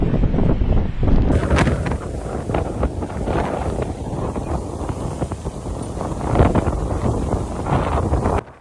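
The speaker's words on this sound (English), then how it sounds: "The wind lifted sand, forcing people to cover their faces with their hands" Hurricane-strength wind lashes the coast at Motril, Spain, during a sudden heat blast, a loud continuous roar buffeting the microphone with gusty surges and rumbling throughout.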